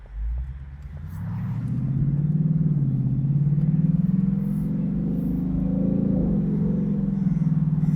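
A 450-horsepower Ford Mustang convertible engine rumbles deeply and climbs in pitch as it accelerates, a steady, loud, low drone heard up close from the driver's seat.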